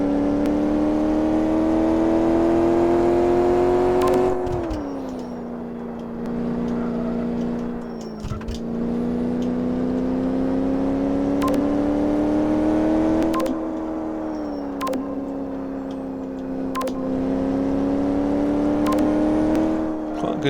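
Sakura GT20 in Car Mechanic Simulator 2015 driving around a test track, its engine a steady loud drone that rises and falls with throttle through several gear shifts, with no talking.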